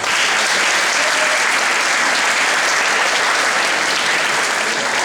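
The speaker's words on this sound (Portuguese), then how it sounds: "eu peço uma salva de palmas" A hall audience at a legal careers debate in Brazil breaks into sustained applause, dense and even clapping from many hands that fills the room without pause and with no talking.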